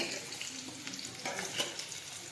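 Onions sizzle and crackle in hot oil, with a busy, steady frying hiss and a few louder pops.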